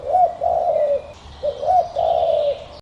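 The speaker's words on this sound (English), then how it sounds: "It's a dove." A dove coos close by in a soft, low, rolling rhythm, repeating two pairs of throaty coos over a few seconds, with faint chirps from other birds in the background.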